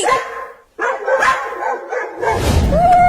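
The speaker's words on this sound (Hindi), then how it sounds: "कुत्ते हमारे घर के पास आकर क्यों भौंकने लगे?" A few loud, sharp dog barks in quick bursts separated by short pauses, close by, with a whining yelp rising at the end.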